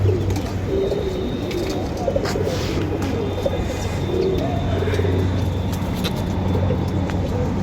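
Pigeons in a loft coo softly and repeatedly, a male calling among them, with low rumbling background and occasional faint chirps nearby.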